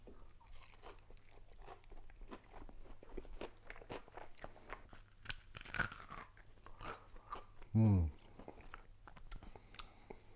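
Crunchy bites and steady chewing of homemade fried chicken tenders in a copycat Raising Cane's recipe, heard close up with crisp crackles and one louder thump near the end.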